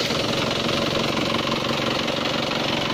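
A car engine runs at a steady idle during a radiator flush, a continuous, even mechanical rumble with a slight knocking texture, close and unbroken with no talk over it.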